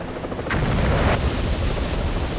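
Bomber airstrike explosions in the Vietnam war game Vietcong, a burst of booming blasts over a dense rumbling battle din that continues throughout.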